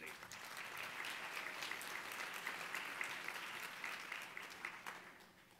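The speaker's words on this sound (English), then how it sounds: "Now you can clap" A large audience at a convention gala applauds continuously, a dense, even wash of clapping that holds at steady strength with slight swells before easing near the end.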